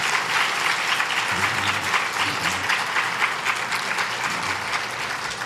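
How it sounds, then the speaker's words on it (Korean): A church congregation applauds a choir at a Korean Sunday evening service with steady, dense clapping from many hands. The applause is even and continuous throughout, with no voices over it. "우리 한번 박수로 다시 한번 우리 격려해 주십시오"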